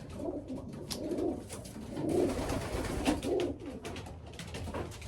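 Pigeons cooing nearby in a coop, several soft throaty coos in a loose repeating rhythm, with other birds in the background and no talk.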